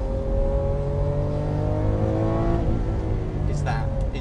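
A Lamborghini engine roars steadily up close as it accelerates hard, with the pitch climbing through a gear and a few short bursts near the end. Someone speaks over the noise.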